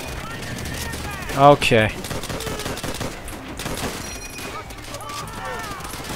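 Rapid video game gunfire in a burst of loud automatic shots, with a brief spoken word and chatter around it.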